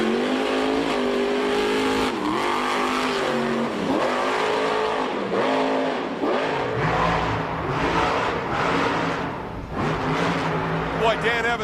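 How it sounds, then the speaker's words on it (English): The Destroyer monster truck, running in the Ford Trucks lane at the 2008 Monster Jam World Finals qualifying, revs its engine loudly and repeatedly with rising and falling surges on the racing course while an announcer talks over it. "Dan Evans rolling the Destroyer, the Ford Trucks lane."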